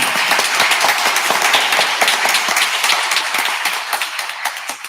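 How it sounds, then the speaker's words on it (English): An audience at a school district board meeting claps in a round of applause, a dense burst of many hands that holds steady and then gradually thins and fades, with no talking over it. "That deserves a round of applause."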